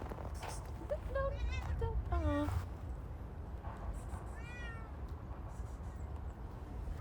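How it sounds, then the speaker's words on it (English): Several cats meow in a Russian park, a run of close, drawn-out calls early on and another plaintive meow later, over steady outdoor background noise with people talking nearby. "Oh, there are cats."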